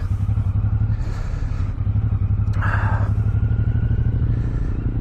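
A Suzuki Boulevard cruiser motorcycle rumbles steadily while being ridden along the Great Ocean Road, its deep, even engine note close and continuous with a slight rise partway through and no talking.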